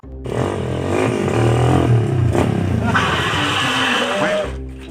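A motorcycle engine running nearby, a loud droning rumble with rising and falling revs and some clatter, heard with people talking over it.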